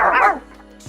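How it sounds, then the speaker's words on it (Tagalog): A puppy lets out one short, high yelping bark that slides down in pitch, close and loud, then quiets. "Nagsitahulan na yung mga tuta."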